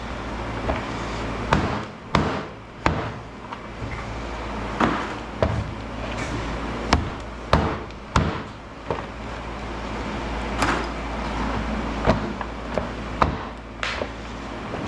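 A hammer strikes scrap metal during a shop scrap-out, knocking parts loose around a large transformer: about a dozen sharp, fairly close metallic blows at an uneven pace, each standing out over a steady background hum with no speech.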